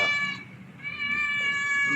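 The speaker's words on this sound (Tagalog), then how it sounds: "Ayan mga amigo, yung alaga natin pusa." A cat meows with a long, drawn-out, insistent cry, close and loud, dipping briefly before rising again into a sustained yowl.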